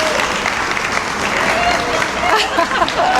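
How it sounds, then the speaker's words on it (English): A school parent-teacher meeting audience in Houston applauds the teachers, a steady wash of many hands clapping throughout, loud and fairly close, with scattered voices mixed into the crowd. "Let's get a round of applause for our teachers."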